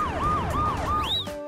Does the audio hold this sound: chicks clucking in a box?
no